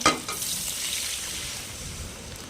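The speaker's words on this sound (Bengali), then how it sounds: "তো এবার আমি এর মধ্যে অ্যাড করে দিচ্ছি আমি যে ডালটাকে তৈরি করে রেখেছিলাম সেই ডালটাকে আমি এর মধ্যে দিয়ে দেব" Cooked dal for a vegetarian sour dal is tipped into a hot pan of oil and stirred, giving a loud burst of sizzling at first that settles into a steady hiss and crackle for a few seconds.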